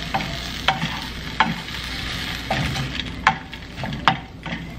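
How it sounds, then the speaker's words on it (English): Butter and red pepper flakes frying in a pan, a steady close sizzle with stirring scrapes and utensil clicks breaking through every second or so. "I'm just gonna let this fry up for just a few minutes"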